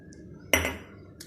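A utensil knocks against a cooking pot of vegetables and olive oil, with one sharp metallic clatter ringing briefly, then another clink right at the end; close and fairly quiet.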